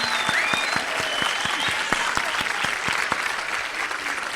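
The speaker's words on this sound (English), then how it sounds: "Let's have a round of applause for Natalia and all the speakers." Audience applause at a biodiversity symposium after the speakers finish, steady crowd clapping with a few louder individual claps standing out and faint voices mixed in.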